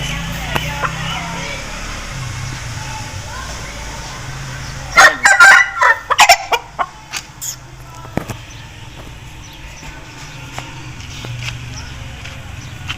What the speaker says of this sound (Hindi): पहला मुर्गा है, लाख कलर का मेरे हाथ में माशाल्लाह।